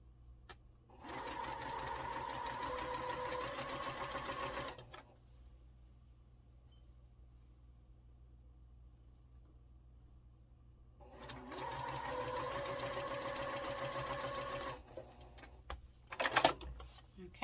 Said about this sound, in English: I'm going to sew the first 2 in all 3 rows chain pieced